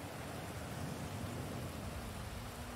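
Steady heavy rain with a dense, even hiss and patter that runs unbroken and loud, with no talk over it.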